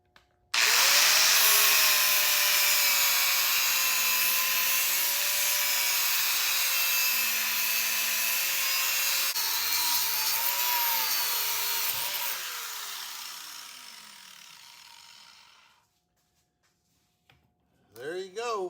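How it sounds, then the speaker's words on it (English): An angle grinder cuts through the crankshaft of a 1952 Chevrolet truck engine, a loud, sustained high-pitched whine with a steady grinding screech that holds for about twelve seconds before winding down, followed by a brief voice. "We're gonna see if this grinder will cut it."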